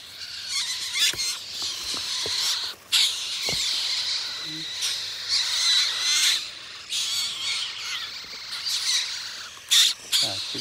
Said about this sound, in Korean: 까치 4마리가 구조되었습니다